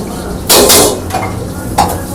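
Butter and spices fry in a pan for the gravy of a Chinese-style biryani at a Chinese corner eatery. Loud bursts of sizzling and stirring come close up, with metal utensil scrapes between them and no talk.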